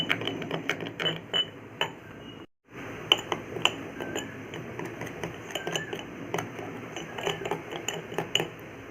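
A spoon or whisk stirs henna and indigo powder with hot water in a bowl, giving quick repeated clinks and scrapes against the bowl with one short pause, close up and with no talking.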